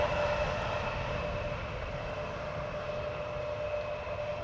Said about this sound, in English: Embraer 175 long range, 13 years old, first flight March 2010